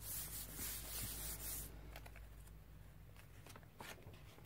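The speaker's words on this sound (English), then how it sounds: "I'm still spraying here." Spray bottle mist hits a mixed media art journal page worked with chalk pastels and distress inks, a loud hissing burst for about a second and a half, then quieter rubbing and brushing sounds.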